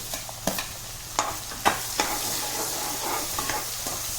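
Onions and garlic paste sautéing in a pan for Rajasthani daal baati, a soft continuous sizzle broken by several sharp scraping stirs of a spoon against the pan.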